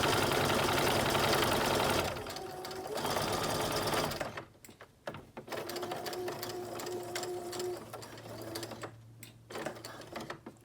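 Sewing machine stitching the edge of a blanket cocoon cardigan, a loud steady whirring run that stops, then short bursts of stitching separated by pauses and small clicks.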